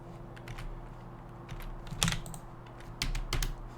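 Typing on a computer keyboard comes in short clusters of light clicks and taps, close and fairly quiet over a steady low hum, with pauses between bursts.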